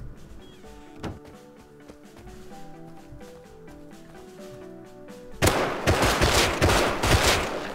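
Gunfire in the Rust survival game killing another player: after a stretch of tonal game music, a sudden loud burst of rapid, harsh shots erupts and continues in a dense volley.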